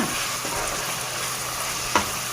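Chicken liver frying in a pan over high heat, a steady dense sizzle throughout with a brief clink of a utensil near the end, no talking.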